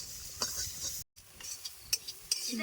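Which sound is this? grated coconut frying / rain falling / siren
grated coconut frying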